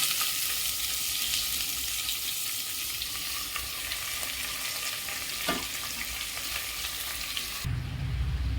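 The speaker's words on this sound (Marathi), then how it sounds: "तेल ऑलरेडी गरम झालं आहे आता जिरं घालते आणि कांदा त्यात ॲड करते" Cumin and sliced onions sizzle in hot oil inside a pressure cooker, a constant bright frying hiss with faint stirring clinks, ending in a sudden shift near the close.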